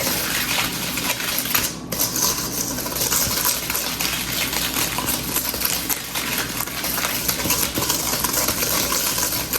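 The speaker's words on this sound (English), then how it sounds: "Now we whisk in the second egg." Egg being whisked into cookie dough in a bowl for New York style cookies, a steady run of close scraping and clinking strokes that lasts throughout, with no talking.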